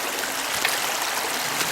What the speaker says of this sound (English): The waters are fairly high, but not quite as fast flowing as I thought they might be.